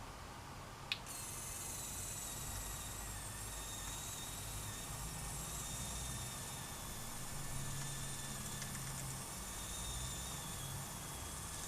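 A Traxxas TRX-4 RC crawler's winch motor winds its cable back in, giving a steady, quiet, high electric whine with a low mechanical hum, continuous and close, with one sharp click near the start.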